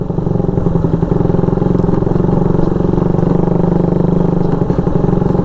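A Suzuki Raider motorcycle rides along a road, its mid-pitched engine droning steadily and loudly with a rapid pulsing beat throughout, no talking over it.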